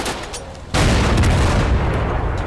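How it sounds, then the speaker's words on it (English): Gunfire from the Total Conflict: Resistance strategy war game, a sudden loud boom or volley that starts abruptly after a quieter stretch and sustains as a dense, rumbling roar of distant battle. "Maybe I'm just looking to where I think the gunshots are from."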